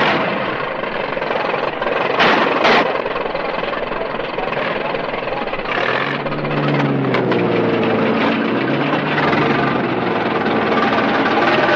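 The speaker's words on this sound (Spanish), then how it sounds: "¡Enciendan motores!" Cartoon race car engines starting up and idling, a loud continuous roar with a couple of sharp bursts early on, then engines revving with wavering, siren-like rising and falling tones.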